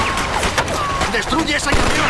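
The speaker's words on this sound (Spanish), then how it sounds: "¡Usa la ametralladora!" Rapid machine gun fire rattles through a firefight in the Mafia II video game, dense bursts of shots mixed with loud, excited shouting voices throughout.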